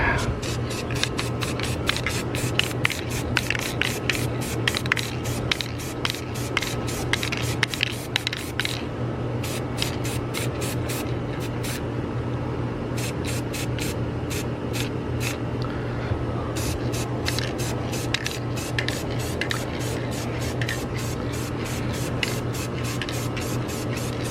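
Repeated short hissing bursts of an aerosol spray paint can on a dollhouse outdoors, irregular and fairly close, over a steady low hum with faint rubbing sounds.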